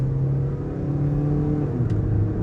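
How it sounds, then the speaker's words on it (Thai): A 2010 Toyota Vios 1.5E automatic drives along with a steady mid-pitched engine drone and low road rumble, the revs holding then rising gently and shifting partway through, heard from inside the cabin with no talking. "รถขับใช้งานปกติเครื่องเร่งดีนะครับผมเกียร์เปลี่ยนปกตินะครับ"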